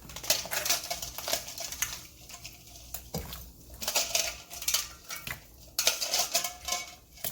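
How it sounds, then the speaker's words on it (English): Fresh blue crabs tumble into a pot of plain boiling water, a busy clatter of shells knocking against metal with scraping and rattling that comes in close, irregular bursts. "I'm just gonna dump in my fresh blue crab"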